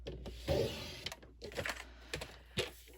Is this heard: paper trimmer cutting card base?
yes